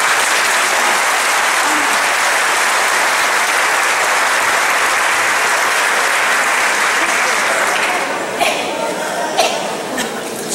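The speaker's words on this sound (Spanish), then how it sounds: "Un poderoso aplauso." Loud, sustained applause from a large audience at a national Catholic Cursillo gathering, steady clapping throughout that thins slightly near the end with a few scattered sharper claps.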